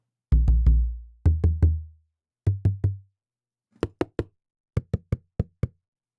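Virtual modern bodhran drum hits from the LibreWave sample library play in small groups of three to four. Deep, booming strikes with long decays come first, then shorter, tighter taps, all clean and isolated against silence.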